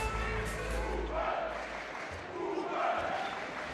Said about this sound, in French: les applaudissements du public allemand pour Uwe Gensheimer, on les entend qui descendent des tribunes de la Kind Arena